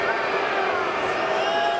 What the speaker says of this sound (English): Crowd getting on him.